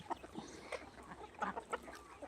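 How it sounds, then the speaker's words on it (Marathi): Farm chickens pecking at their feed, soft scattered clucks and scratching nearby, faint and without talk. "सध्या कोंबड्या खाण्याचं काम सुरू आहे यांचं जेवण चालू"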